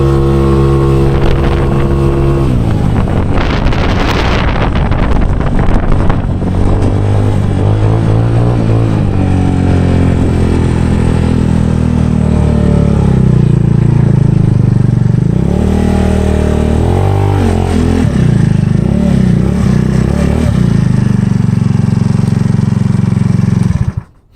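A 2018 Tao Tao Racer engine roars loudly while riding at speed, revving up and down with heavy wind rush over the microphone for about twenty seconds before cutting off.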